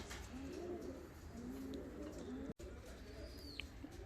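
Fancy costume pigeons coo softly in a few low, rolling phrases over a steady background hiss, with a faint higher chirp near the end and no talking.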